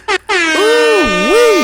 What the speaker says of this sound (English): air horns for you